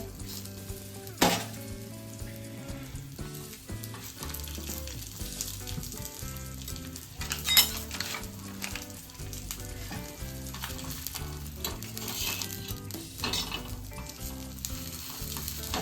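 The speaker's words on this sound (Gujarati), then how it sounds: "અને તવા ઉપર નાખી દઈએ થોડું ઘી, કેમ કે બટર તો અવેલેબલ નહોતું એટલે ઘીમાં આપણે આજે ફેંકી શેકવાની છે" Flatbread roasting in ghee on a hot griddle sizzles and crackles steadily up close, with occasional sharp clinks and scrapes of a utensil against the pan.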